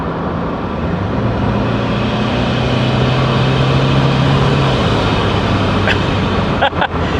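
A 1989 Maserati TC by Chrysler with a turbocharged engine drones steadily while being driven. It has a sustained low tone with road rumble, and a couple of sharp clunks come near the end.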